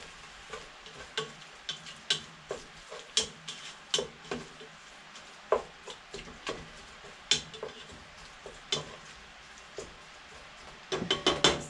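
Ground hamburger meat cooking in a pan, with a steady low sizzle broken by frequent sharp clicks and scrapes of a utensil stirring against the pan, getting busier at the end.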